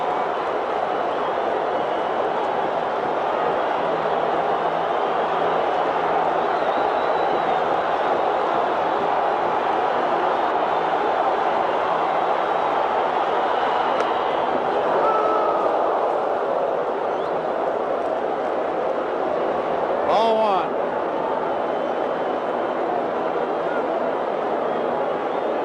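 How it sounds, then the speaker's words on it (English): Baseball stadium crowd with the bases loaded and two outs, Willie Wilson batting against pitcher McGraw, a steady, dense roar of many voices holding throughout, with one brief sharp noise standing out near the end. "The crowd will tell you what happens."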